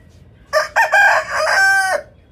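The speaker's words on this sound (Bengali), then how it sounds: "আমাদের প্যারট বেক মোরগটা কিন্তু আগের থেকে অনেক অ্যাক্টিভ হয়ে গেছে" A parrot-beak rooster crowing once, loud and close, a single drawn-out call lasting over a second with a broken start, alone against quiet background.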